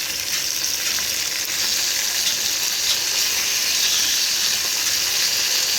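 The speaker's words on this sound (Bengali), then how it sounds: "মাছ ভাজা হচ্ছে" Fish pieces fry in hot oil in a pan, a loud, close, continuous sizzle and crackle that holds steady without a break and with no talking.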